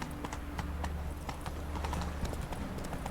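Geralt's horse Roach trots along in The Witcher 3, hooves clip-clopping in a quick, steady rhythm close by, with faint background sound and no clear speech.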